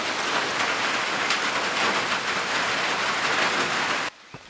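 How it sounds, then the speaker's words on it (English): Steady, heavy rain pours onto a trail shelter on the Long Trail, a dense, even hiss of drops close by that continues for about four seconds before cutting off abruptly. "We're in the shelter now and it's raining pretty good."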